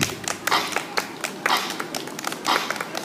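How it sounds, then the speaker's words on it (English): An audience at a dance session claps hands in steady rhythm, sharp claps landing about twice a second over a faint background. "Let me hear you clap your hands."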